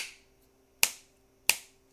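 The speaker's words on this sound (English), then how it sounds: "here's me snapping" Two crisp finger snaps, close and loud, spaced well apart with near silence around them.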